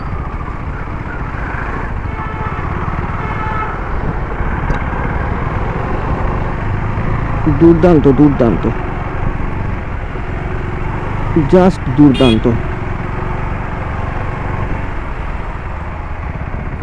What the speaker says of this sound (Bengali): বাইক কিন্তু সুন্দরভাবে চলছে, থ্রটল ছাড়া সুন্দর স্মুথলি বাইকটা চলতে পারছে